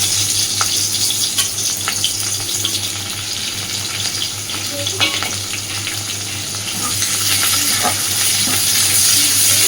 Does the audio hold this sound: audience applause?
no